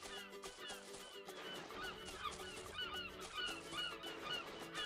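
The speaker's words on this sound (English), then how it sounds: "Every time I hear those seagulls, I think like SpongeBob." Seagulls in the video game Spyro Enter the Dragonfly call in faint, repeated squawks over a continuous bed of game music and ambience.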